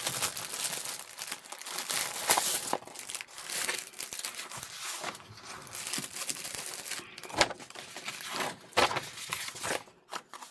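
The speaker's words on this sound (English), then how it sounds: "I think this is tea-dyed paper, or tea-dyed or coffee-dyed paper from Cheryl, I think." Tea-dyed or coffee-dyed paper is crinkled and handled up close, producing continuous dry rustling and crumpling with sharper crackles and a few louder crunches throughout, and no voices.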